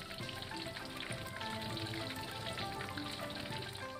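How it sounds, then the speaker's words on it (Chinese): Mandarin fish deep-fries in hot oil, giving a dense, steady crackling sizzle that stays quiet but constant throughout. "鲜嫩的鱼肉在高温油炸中立刻绷紧"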